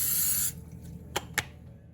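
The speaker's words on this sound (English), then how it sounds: "Oil my loaf pan very well with this olive oil spray." Olive oil spray misting onto a loaf pan in a home kitchen, a steady hissing burst for about half a second, followed by two faint clicks or taps.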